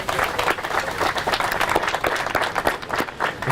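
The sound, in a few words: audience applause for Pat Montoya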